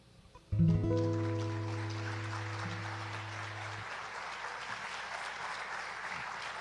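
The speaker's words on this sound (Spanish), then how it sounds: "Fuerte el aplauso" A sustained chord rings out and stops, then a crowd's steady applause carries on, dense and moderately loud, filling the rest of the clip.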